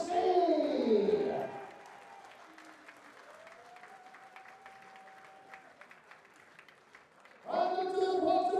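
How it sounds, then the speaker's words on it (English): Crowd applause at the 2024 WDF Lakeside World Darts Championship: loud, dense clapping at the start that fades under a quieter stretch, then surges back full and close at the end, with a voice over the clapping. "keep your applause going for Jimmy"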